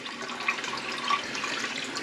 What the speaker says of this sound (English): open that up and just let the water through as it's filling